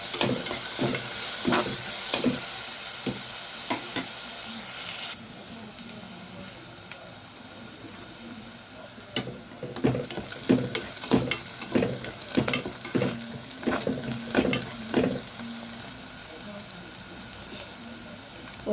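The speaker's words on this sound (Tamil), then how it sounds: "பச்சை மிளகா, கருவேப்பிலையும் சேர்த்துறேன். வெங்காயம் நல்லா வதங்கட்டும்." Onions, green chillies and curry leaves sauté in a hot pan with a steady sizzle, while a spoon scrapes and stirs in repeated clattering strokes through the frying.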